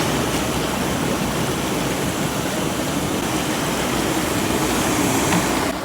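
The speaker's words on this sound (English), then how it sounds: "Now this button here is the bubbles." Coleman SaluSpa inflatable hot tub with its bubble jets running, a steady, dense rushing hiss of air churning through water, loud and constant throughout.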